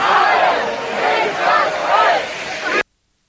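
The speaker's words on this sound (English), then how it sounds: "I always get a little worried with German chants from a crowd." German-speaking protest crowd chanting in unison outdoors, a loud, continuous massed roar of voices rising and falling in rhythmic swells for about three seconds before cutting off abruptly.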